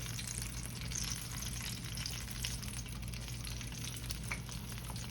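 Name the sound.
pies frying in hot oil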